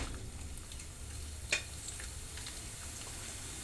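Kaaram boondi batter fries in hot oil in a kadai with a faint, steady sizzle and bubbling throughout, broken once by a brief sharp clink.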